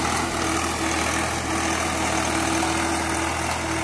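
An old Swaraj 735 tractor, about 30 years old, runs its engine with a steady, loud, close diesel drone and a constant low rumble, with no voices.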